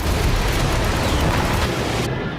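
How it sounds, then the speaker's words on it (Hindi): Missile strike explosions at an Israeli barracks in news footage produce a dense, loud, continuous roar of rumbling blasts that stays steady across the clip and cuts off abruptly near the end. "इजराइल की बेथ लिट बैरक पर कई धमाके हुए"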